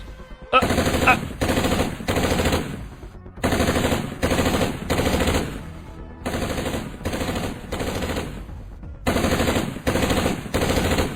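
Loud automatic gunfire in bursts from a fantasy drama in which people shoot at monsters, sounding as rapid machine-gun volleys separated by short pauses, with no voices over it.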